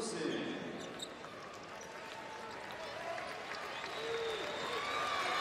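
Michigan basketball crowd on its feet at a Hall of Fame Tipoff final against Providence, giving a steady, broad wash of applause and crowd noise that swells slightly toward the end, with arena murmur underneath.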